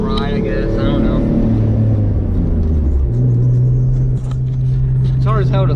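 A Mitsubishi 3000GT VR4 on the road, its engine a steady low rumble from inside the cabin with one rise in pitch as it pulls through a gear, continuous and fairly loud.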